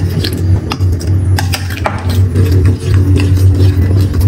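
Chicken being mixed with sauces and spices in a bowl, with close, loud clinks and scrapes of a utensil against the bowl over a steady low hum.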